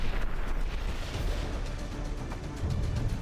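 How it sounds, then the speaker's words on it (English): Explosions rumble in a naval battleship video game, a dense, sustained barrage of deep booms and blasts that rolls on without pause, loud and close. "Bam! Explosions. Another turret is gone."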